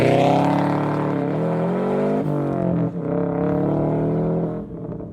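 A Subaru Spec B engine held at high revs for launch control, rising and falling in several revving sweeps, loud and close, before it drops off at the end.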